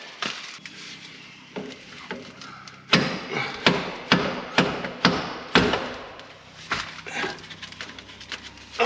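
Repeated sharp hammer blows strike metal and wood on an offroad expedition truck while working with a bottle jack, irregular at first then a quick run of hits, close by.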